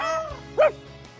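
A parrot imitates a dog, giving a single short, yappy bark-like call up close, with faint whistly chatter before it in a quiet room.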